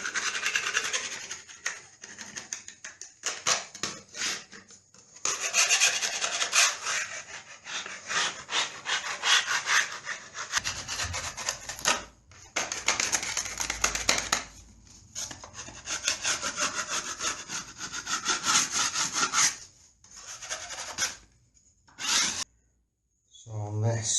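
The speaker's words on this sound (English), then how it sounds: "just go around and scrape all this loose" Rough, rasping scraping repeats in short strokes as loose, cracked paint is scraped off a plastered wall, with someone talking over and between the strokes.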